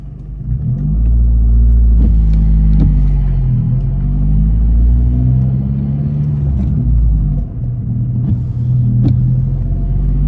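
A car pulls away and drives on during a driving test in Tottenham, its engine rumbling loud and close from start to finish, rising as it accelerates, with no talking.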